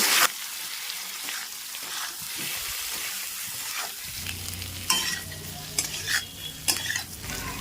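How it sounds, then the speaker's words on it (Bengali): Taro pieces stir-fried with chilli powder and spices in a pan, heard as a loud close sizzle with repeated scraping and tossing stirs that grow busier toward the end, with no talk. "এবারে কিন্তু কচু খুব ভালোভাবে তিন চার মিনিট ধরে আমি কষে নেব"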